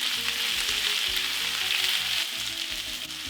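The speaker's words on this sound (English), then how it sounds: "onto this hot pan, vegetable oil and start caramelizing the onions. First, toast some cumin seeds, sliced onions," Cumin seeds and sliced onions fry in vegetable oil in a hot pan, giving a dense, continuous sizzle at close range that stays steady throughout.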